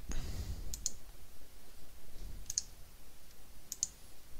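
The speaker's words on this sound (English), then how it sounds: "Left click and it'll set it to day, right click and it turns it to night." Three pairs of sharp mouse clicks spaced about a second and a half apart, crisp and close, over quiet room noise while playing Minecraft on a Bukkit server with the Tool Belt plugin.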